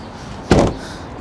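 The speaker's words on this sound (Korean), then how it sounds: "문을 닫을 때마다 느끼지만 참 참을 수 없는 가벼움이라는 것들이 느껴지는 것 같습니다." A Kia Ray light car door shuts once with a short, near, hollow thump against a quiet background.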